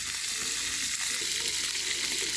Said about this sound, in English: So all we cooking tonight is sirloin steak.